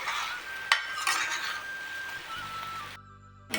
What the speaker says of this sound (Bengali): ওগুলো একটু নেড়ে নেবো তারপর একটু গরম জল দিয়ে দেবো